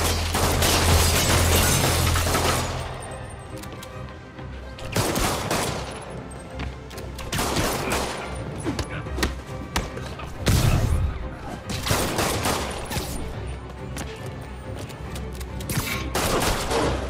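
Thugs open fire in Marvel's Spider-Man game, with loud rapid volleys and bursts of shots running almost nonstop, mixed with shouting voices and impact noise.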